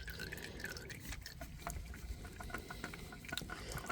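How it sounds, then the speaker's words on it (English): Engine oil drains from the oil filter of a 2023 Honda CR-V into a drip pan, a faint continuous trickle with scattered small drips and splashes, quiet and close. "to replace the filter, you're just gonna turn, let it drain out so you don't make mess"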